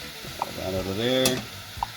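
A spoon stirs a simmering sauce made with horseradish and tomato paste in a pot. There are a short scraping swirl and light clinks against the pot over a soft bubbling sizzle, all close by.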